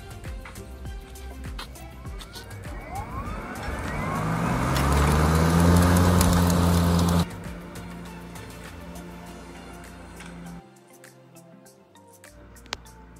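Lawn mower fitted with a Toro striping kit cutting grass, its engine swelling louder as it passes close by, then dropping away and fading to a quieter hum near the end.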